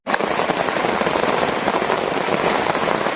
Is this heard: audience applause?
no